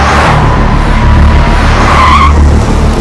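Vehicles speeding and skidding: a loud, close roar of engines with screeching tyres sliding across the road, one sustained squeal rising near the end.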